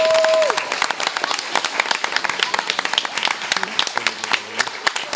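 A room at a school board meeting breaks into a round of applause honoring student award winners, a full crowd clapping loudly with sharp, dense hand claps, a brief tone fading at the start and some voices underneath.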